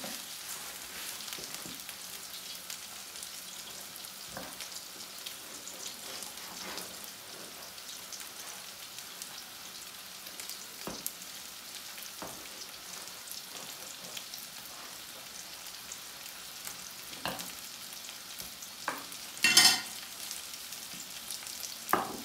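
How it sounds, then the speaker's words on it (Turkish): Soft, continuous sizzling and crackling of meatballs frying in a pan, with occasional louder pops and spits toward the end. "köftelerimiz kızarıyor"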